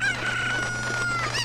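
Cuccos, the big chickens of a Zelda game, crow in a single drawn-out cock-a-doodle-doo with clucking tones over a steady low hum, loud and close in a game scene.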